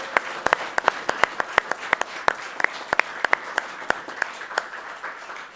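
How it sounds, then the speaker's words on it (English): A live audience at the RPG Limit Break 2022 charity speedrun marathon finale gives stream layout designer Oro a round of applause, a steady bed of crowd clapping with sharp, closer individual claps popping out in a quick rhythm. "Let's give him a round of applause"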